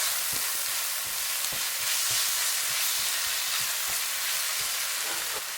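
Maggi-seasoned filling for Cameroon-style African fish rolls sizzles steadily in a pan while a spoon stirs it, scraping and knocking against the metal in irregular close taps over the constant frying hiss.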